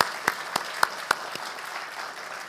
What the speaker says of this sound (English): Let's give Jaylen another round of applause.